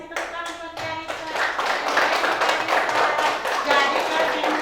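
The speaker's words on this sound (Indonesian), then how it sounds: "kasih tepuk tangan buat Kalisa." Classroom of students clapping for a classmate, a dense burst of hand claps that builds and stays loud after a few scattered early claps, with voices mixed in.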